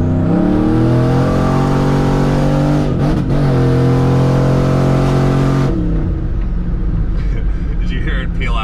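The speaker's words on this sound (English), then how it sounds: "Did you hear it peel out? Yeah. It actually broke traction." A turbocharged 5.3L GMC Yukon peels out and breaks traction, its engine loud and close as it revs up through rising tones, drops off abruptly near the end, then idles and fades under background noise.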